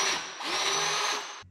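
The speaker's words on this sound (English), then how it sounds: "the problem with plug welds is you got to drill holes" Power drill boring holes in steel for plug welds on steering parts, a steady close whine lasting just over a second with a slight dip partway through.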